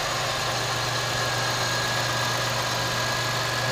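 A 3.5 liter V6 in a 2006 Chevy Malibu idles steadily with a low, even hum and faint mechanical whir, close by and without talk, holding constant throughout.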